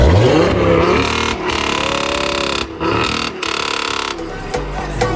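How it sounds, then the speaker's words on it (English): A loud Audi A3 engine revs hard in neutral and bounces off a hard rev limiter, cutting in and out in choppy bursts with brief drops in between. "Just neutral, and then you rev, and then on the limiter, it's got a hard limiter instead of soft limiter."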